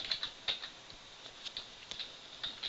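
Keys clatter on a computer keyboard in quick, irregular bursts of light clicks, close and fairly quiet, with no voices.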